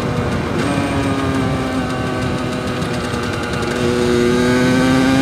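Motorcycle engine running loud and close, holding a steady droning tone that shifts pitch slightly as it changes gear without the clutch.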